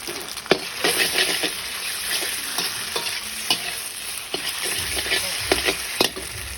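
Food frying in oil until crisp in a home kitchen, a continuous close sizzle broken by repeated scraping and clacking stirring strokes of a utensil in the pan.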